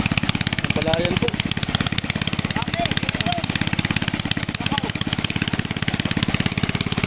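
Small water pump motor running beside a flooded rice paddy, a steady fast-pulsing engine drone that stays loud and close throughout, with people talking intermittently over it.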